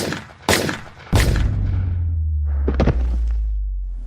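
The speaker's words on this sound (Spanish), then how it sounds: "de repente se escucharon un par de disparos" Two loud, sharp gunshots ring out in quick succession amid a protest with tear gas, followed by a deep rumble that lingers and slowly fades.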